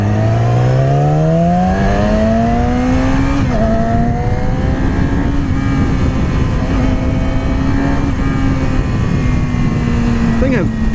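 A Yamaha R6 sport motorcycle is ridden hard, its high-revving engine whine climbing through the gears with short dips at shifts, loud and close over constant wind noise.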